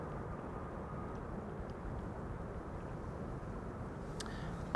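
Delta Airlines flight 144 from Seattle, Washington, arriving at Amsterdam Schiphol Airport on a sunny day: a steady, distant jet engine rumble that holds evenly throughout, with no voices.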